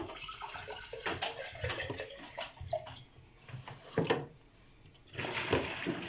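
Water pours steadily into a container to make pickle brine, a near splashing stream with a few short pauses and bursts, and no talking.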